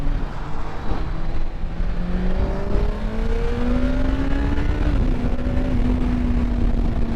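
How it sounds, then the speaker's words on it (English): A new motorbike accelerates hard from 30 to 70 mph onto a wet motorway, its engine note climbing steadily through the gears over constant wind and road roar, with no talking. "let's just accelerate from, what are we doing, 30 to 70"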